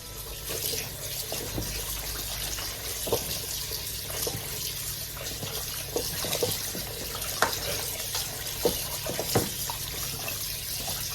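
Wood ear mushrooms rinsed at home under a running kitchen tap, a steady stream of water splashing into the sink with scattered clicks and knocks of handling throughout.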